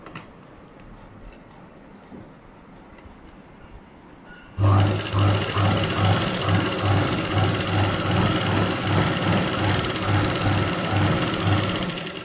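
After a few seconds of quiet room noise with faint taps, a sewing machine suddenly starts stitching a blouse, running loud and steady with a fast mechanical rattle that continues to the end.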